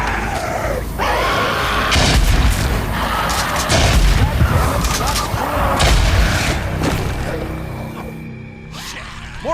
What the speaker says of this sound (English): the player can use Molotovs to destroy them